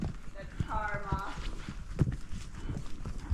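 Horse walking on a trail ride in Denali National Park, hooves clopping in an irregular rhythm close by, mixed with rustling and a brief whinny-like tone while people talk nearby.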